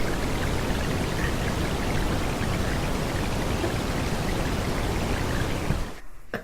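Mouths imitating rain drenching riders on a theme park ride at Disney's Animal Kingdom make a steady, loud hissing splash that runs continuously for about six seconds, then cuts off abruptly.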